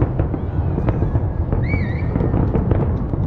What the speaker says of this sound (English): I guess the fireworks are going to go right up there.